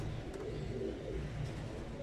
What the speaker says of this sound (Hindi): टेडी कबूतर है, ये टेडी कबूतर है, ये आला नस्ल